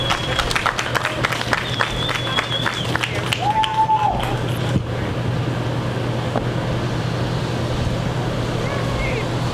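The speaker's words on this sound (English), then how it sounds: "Let's do another round of applause for Street Medicine" An audience at The Jewel applauds after the introduction to a Street Medicine documentary screening. The clapping is loud and steady from the start, then fades into a broad, noisy crowd wash.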